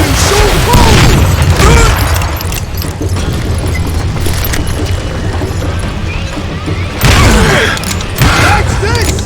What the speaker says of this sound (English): I got a lot more dynamite than you!